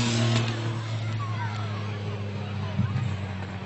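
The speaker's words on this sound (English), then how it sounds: "He's spinning the car back around, ladies and gentlemen." A Chevy stunt car at a 1995 Joie Chitwood Chevy Thunder Show spins back around in front of a grandstand, its engine droning and revving steadily, loud and close, with crowd babble and an announcer's voice over it.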